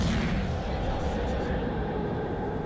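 Heavy battleship guns of the tier 5 premium Rasputin in World of Warships Legends firing at an enemy ship, a dense, continuous rumbling roar of artillery that fills the whole stretch with no pause.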